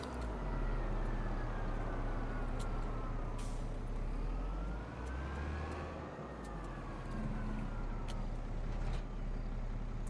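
Tractor pulling a seed drill in Farming Simulator 25, a steady low diesel drone with a rising and falling engine pitch and faint mechanical hiss throughout, no one speaking.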